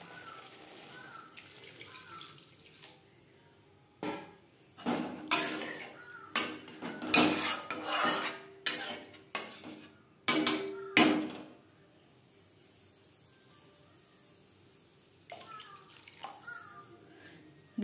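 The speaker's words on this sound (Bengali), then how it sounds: "এবার দিয়ে দেব জল।" Water is poured into spice masala in a cooking pan for a Bengali tilapia fish curry, a run of loud splashing, clattering bursts in the middle, with quieter background before and after.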